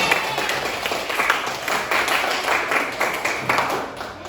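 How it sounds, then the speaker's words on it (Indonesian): Students in a classroom applaud their classmates during a lesson on folk poetry, a dense, lively burst of many hands clapping together throughout. "tepuk tangan buat teman-teman"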